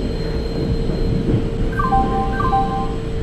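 A passenger express train pulls into an Indian railway station platform in a train simulator game, with a steady low rumble of wagons and rail noise, then sustained horn-like tones sounding near the end.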